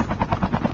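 A helicopter's rotor thumps rapidly and evenly close by in a battle royale video game, a loud pulsing chop with nothing else over it.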